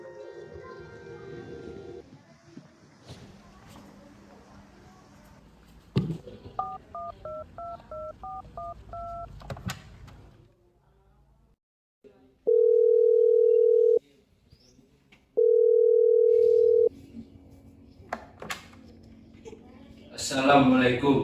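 Telephone keypad tones beep in a short dialing sequence during a school drama scene. Two long steady dial-tone bursts follow with a gap between them, and voices speak around them.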